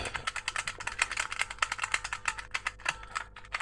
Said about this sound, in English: You tap them and it sounds like a mechanical keyboard, even though it's literally just springs